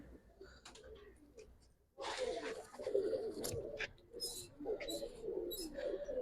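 Giribaz pigeons coo and call in short, close bursts, with faint chirps and cage rustling mixed in and someone speaking now and then over them.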